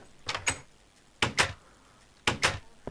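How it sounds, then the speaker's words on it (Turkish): A door opens in the Minecraft video game, with three paired clicking clacks evenly spaced about a second apart, fairly quiet and with no talk over them. "Açtım ikinci kapıyı hadi."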